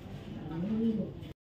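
Racing pigeons, Maxi racer hens, give a low rounded coo that swells and fades over about a second, close and fairly loud against a faint background.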